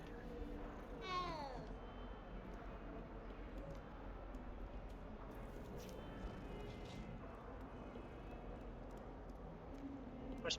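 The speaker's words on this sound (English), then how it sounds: "But I'm glad I could pet the cat." A cat in the Hogwarts Legacy video game gives a single brief meow, quiet against a faint ambient game background with soft rustling.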